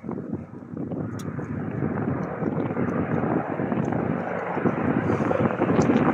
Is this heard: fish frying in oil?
no